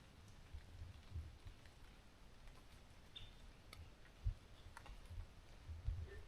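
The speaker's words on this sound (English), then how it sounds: "Oh, a raindrop just hit my head." Light rain falls in a forest, with soft scattered drops pattering on leaves and ground in a steady, quiet wash and a few slightly louder close ticks.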